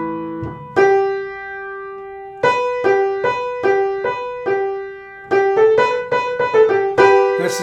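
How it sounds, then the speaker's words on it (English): Sustained piano notes struck one after another, each ringing briefly, pairs stepping between two pitches a third apart, clear and close with no talking. "That's the sound of a major third."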